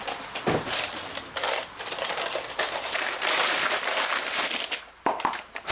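Crinkling and rustling of packaging as a replacement car part for a BMW E36 328i is unwrapped, with steady close crackling and a few sharper tearing bursts, no talking.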